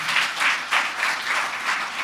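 A church congregation claps together during a sermon, a short burst of dense, even applause lasting about two seconds.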